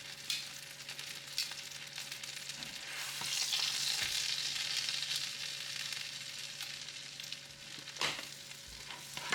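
Sole fillet frying in butter for sole meunière, basted with the hot butter, gives a loud, continuous close sizzle that swells in the middle, with a few clinks of a spoon against the pan.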